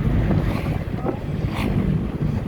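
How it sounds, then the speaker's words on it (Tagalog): Steady, loud wind buffeting the microphone outdoors in Tagaytay, a continuous low rumble with gusty rises, with faint background murmur underneath. "Ang hangin."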